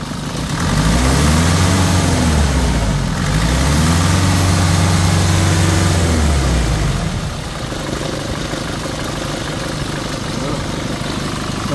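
A Mercedes Sprinter van's diesel engine with a fuel leak at the rear injectors and weak power, revved twice in long rising-and-falling sweeps, loud and close, before settling back to a steady idle.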